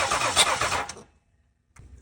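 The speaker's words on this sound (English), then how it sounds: "if I jump the starter right now" A 2015 Jeep Grand Cherokee EcoDiesel cranks on its starter under the hood during coolant hose work, one loud churning burst of about a second that stops abruptly, then silence before faint noise resumes.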